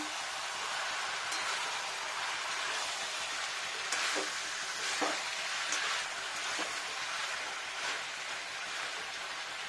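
Chicken and onion fry in hot oil for chicken kosa, giving a steady, dense sizzle with occasional scraping stirs and crackles, close and moderately loud, with no talk.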